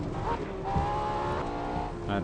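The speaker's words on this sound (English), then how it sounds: "My front tire's locked up, probably, creating that understeer." Tires squealing as a car locks its brakes in Assetto Corsa, a sustained screech over engine drone, with a driver speaking briefly.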